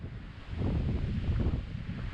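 Steady wind buffets the microphone with a low, rumbling roar that swells and holds throughout, with no voices, on a high lookout over lava fields at Craters of the Moon, Idaho.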